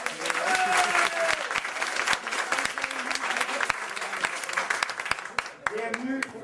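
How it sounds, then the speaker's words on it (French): A comedy show audience at a Juste pour rire performance breaks into sustained applause: many hands clapping in a thick, crackling wash with some louder individual claps, while a voice carries on over it. "Par applaudissement."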